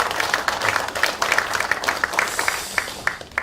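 A hall of party members at a legislators' workshop claps for their leader, a dense, lively burst of many hands applauding steadily for a few seconds, fairly close.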